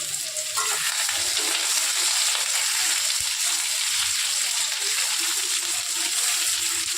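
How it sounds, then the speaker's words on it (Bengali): Taro (arum root) frying in hot oil until it turns red, a steady, loud, continuous sizzle with light bubbling and occasional stirring, no voices. "গাঁটি কচুটাকে বিশেষ করে লাল করে ভেজে নিতে হবে"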